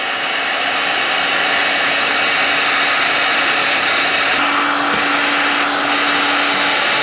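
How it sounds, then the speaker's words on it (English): A heat gun blows hot air onto a relatively thick circuit board from a fiber transport switch to melt the solder, a loud, steady, close roaring whoosh that holds unbroken throughout with no talking. "We'll just heat it up real hot. Heat gun. Should come off fairly easy when I heat it up and melt the solder under it."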